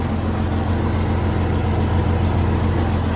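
An old Feneme truck's engine runs steadily through a diffuser-style exhaust, giving a loud, close, continuous low rumble with no pauses.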